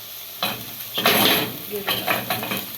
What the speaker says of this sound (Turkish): Şimdi karıştırıyorum yanmaması için.